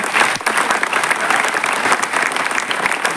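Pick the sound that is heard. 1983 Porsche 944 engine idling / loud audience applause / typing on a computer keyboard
loud audience applause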